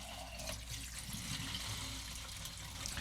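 Caffenol developer being poured into a film developing canister, a steady close trickle of liquid running continuously without pause, no voices.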